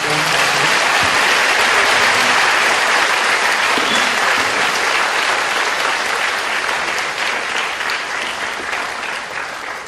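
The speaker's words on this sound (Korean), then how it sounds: "신영복 선생님, 또 도종환 선생님, 또 김창남 선생님, 박경태 선생님, 김준호 선생님께 다시 한번 큰 박수 부탁드립니다" An audience at a book concert with guest authors applauds loudly and steadily, a dense wash of clapping that fades slightly toward the end.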